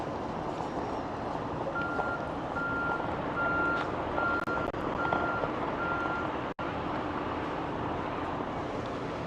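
A truck pulls in and backs up, its reversing alarm beeping in an even repeated pattern over a steady engine rumble and outdoor wind, with no talking.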